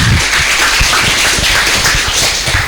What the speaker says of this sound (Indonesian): Beri tepuk tangan dulu untuk kawannya